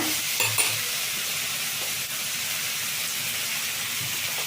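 Pea gravy masala with green chillies fries in a pan, giving a steady close hiss and sizzle with a few soft stirring knocks near the start and no one speaking.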